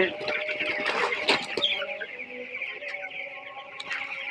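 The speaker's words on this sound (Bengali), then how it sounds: "ব্রয়লার মুরগি" Eighteen-day-old broiler chickens cluck and chirp together in a farm shed, a busy overlapping chorus of close, shrill calls with a few louder bursts and no talking.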